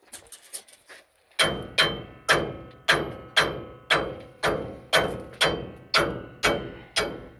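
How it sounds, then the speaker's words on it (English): A hammer strikes metal parts on a Dana 60-70 axle during a rear disc brake conversion, a steady rhythm of about nine sharp ringing taps after a few lighter knocks, close and loud with no talking. "tap on it with a hammer, and then these little things should pop right out"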